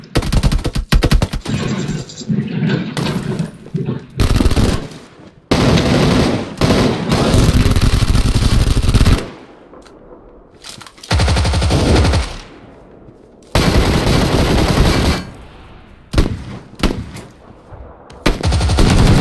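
Machine gun fire in a video game rattles out in loud, rapid bursts separated by short pauses, up close and with no talking over it.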